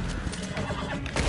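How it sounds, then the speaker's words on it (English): A horse whinnies in Red Dead Redemption multiplayer on PS4 Pro, a short close neigh over game background noise with faint hoofbeat-like thumps. "I knocked him out with my horse."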